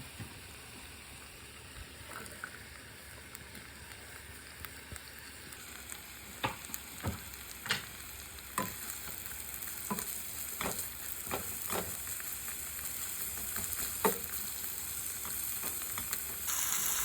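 Western omelet frying in a lightly oiled pan, a soft steady sizzle with repeated sharp scraping and tapping of a utensil stirring against the pan, fairly quiet and close, no voices.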